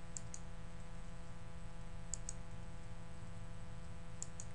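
Three faint paired mouse clicks on a computer, each a quick double tick, spaced a couple of seconds apart over a steady low electronic hum.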